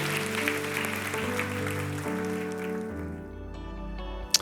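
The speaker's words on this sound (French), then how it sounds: "Est-ce qu'on peut les applaudir une dernière fois?" A church congregation applauds in a soft wash of clapping under sustained music with held tones, the clapping fading out as the music continues alone.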